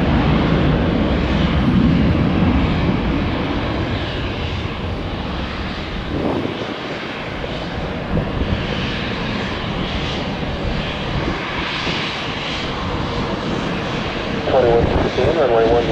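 Airliner taking off from runway 1 left at Tampa airport, a loud, close, continuous engine roar that swells and rumbles throughout, with people talking over it.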